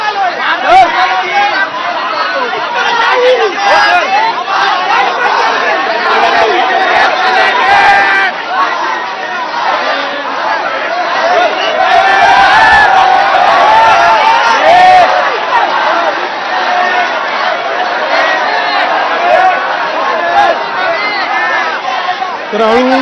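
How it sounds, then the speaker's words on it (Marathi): A large crowd of protesters on the railway tracks at Badlapur station, a dense continuous babble of many voices with occasional louder shouts, swelling midway, heard close and at length. "आता रेल्वे ट्रॅकवरची गर्दी सुद्धा मोठ्या प्रमाणात वाढतीये"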